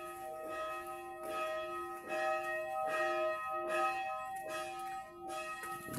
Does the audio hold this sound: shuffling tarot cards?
no